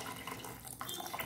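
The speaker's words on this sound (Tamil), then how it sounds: "புளிஞ்சிட்டு வேணுங்கிற அளவு தண்ணி விட்டுக்கோங்க" Water poured into a pot of gooseberry and tomato rasam, a steady splashy stream running continuously at close range; no voices.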